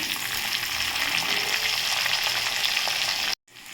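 Mustard seeds, onion and curry leaves fry in hot oil, a loud, dense, continuous sizzle heard close up that cuts off abruptly near the end.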